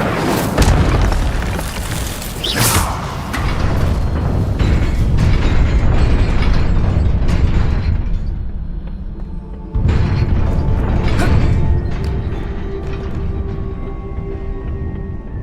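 Incendio fire spell bursts in Hogwarts Legacy, loud roaring eruptions and booming blasts swelling over several seconds, fading, then a second fiery burst that trails off into a rumbling tail.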